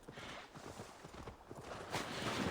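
A horse's hooves clip-clop at a steady trot in the game AC Valhalla, a rapid rhythmic patter of muffled thuds over ambient background noise, fairly close and without talk.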